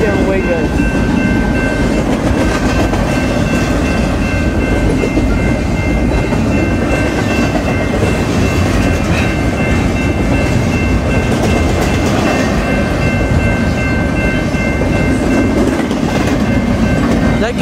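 A freight train rolls past close by, a loud continuous rumble with rhythmic clickety-clack of wheels over rail joints and steady squealing tones, with a voice now and then under the noise.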